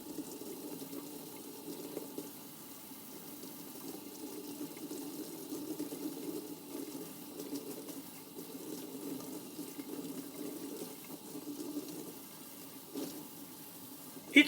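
Cleaned parts from a 1962 Heathkit Mohican GC-1A shortwave receiver being rinsed of bleach residue under a running tap, giving a steady close stream of water splashing into a sink with no talking.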